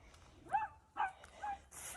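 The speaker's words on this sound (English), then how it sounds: "I have two barking dogs because they think that they're missing out on something." Two dogs bark from somewhere outside a garden during a rainy spell, giving three short, fairly faint yipping barks about half a second apart, followed by a brief hiss.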